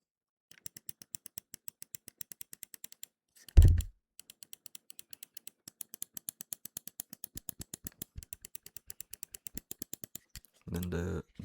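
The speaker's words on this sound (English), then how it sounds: "Gonna be the right click and left click first." Left and right buttons on an Arbiter Studio Akitsu small carbon composite mouse click in a steady series of crisp, close single clicks, broken by one louder thump and ending in a short burst of noise.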